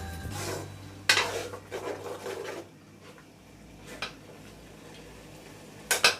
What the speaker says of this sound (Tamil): இப்போ இதையும் ஒரு முறை கலரி விட்டுடலாம்.